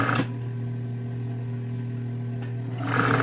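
A sewing machine stitches the waistband onto a flared skirt, running as one steady close whirring hum of about three seconds between brief handling noises at start and end.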